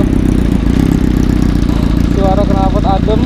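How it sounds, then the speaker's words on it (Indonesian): Motorcycle engine idling in a car park, a steady loud low exhaust rumble with even pulsing, close up; a voice speaks over the last second. "Suara knalpot adem"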